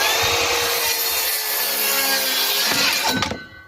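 A Makita 36V LXT circular saw makes a 45-degree square bevel cut through a cedar 2x6, a loud whining rip that runs steadily, then clatters as the blade clears the board and the noise drops off at the end.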